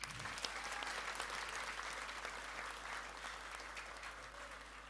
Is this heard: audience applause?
yes